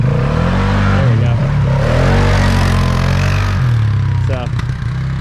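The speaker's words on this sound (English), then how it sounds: "So, ooh, a little backfire action there." A Polaris Sportsman ATV engine runs loudly and steadily, its drone rising and falling, with a few sharp backfire pops near the end under nearby voices.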